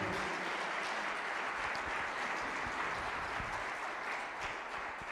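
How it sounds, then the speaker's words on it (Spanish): A congregation applauds in praise at a worship gathering: a dense, even wash of many hands clapping together, moderately faint and sustained without pause, with no talking over it. "bendiga al Señor con un aplauso"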